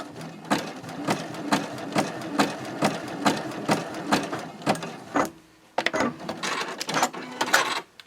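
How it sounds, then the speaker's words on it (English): A sewing machine stitching back and forth at a slow pace for a fabric basket, giving a steady run of loud, even mechanical thumps and a brief pause before it starts again, with no talk over it. "And now you just want to stitch back and forth a few times."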